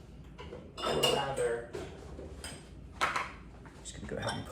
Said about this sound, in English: Just gonna toss them in this colander.